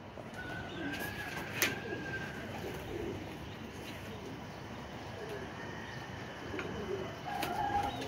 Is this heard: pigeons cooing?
yes